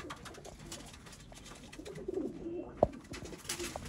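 Sialkoti pigeons of the Master Abdullah strain coo softly in their loft, low rolling calls repeating nearby, with a sharper brief sound near the end.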